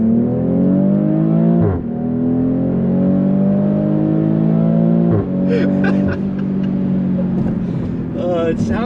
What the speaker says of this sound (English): It sounds good. Even on the shift, you hear that when it drops gears for a second. You hear that sort of exhaust, almost blow off.